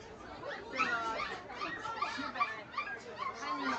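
Thin, squeaky whimpers and yips come from a toy poodle puppy at a pet market, repeating in short bursts while people talk nearby.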